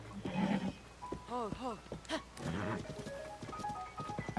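A horse in a Zelda game neighs twice in quick succession, with clear rising and falling whinny contours over light clip-clopping hooves, close and fairly loud amid soft game sounds.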